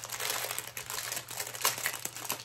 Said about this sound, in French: désolée pour le bruit du papier